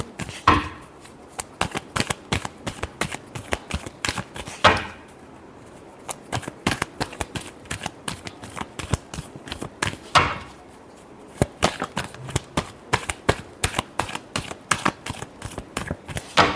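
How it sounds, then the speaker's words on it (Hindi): Tarot cards are shuffled close by in a long series of quick riffling flicks, broken by two brief pauses. It is crisp and rhythmic, with no talk over it. "Last shuffle."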